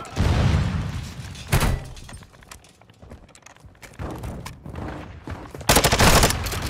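Shotgun gunfire in Call of Duty: Modern Warfare II: a few loud, broad blasts burst out near the start and again toward the end, with quieter game sounds between them.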